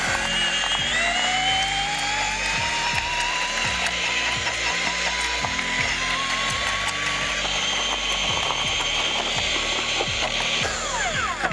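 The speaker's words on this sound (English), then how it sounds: "And now we'll let the Superior Auger do its" A Superior Auger mixer churns mortar in a steady, close mechanical grind, with a rhythmic ratcheting clatter repeating under a rising motor whine for the whole stretch.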